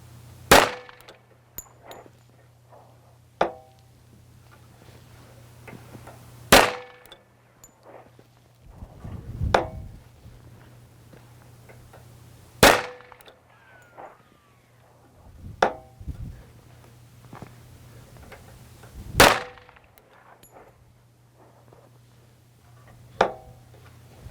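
A custom .45 Auto pistol fired from a Ransom rest, several sharp shots ringing out one by one with pauses between them, loud and clear with no talking.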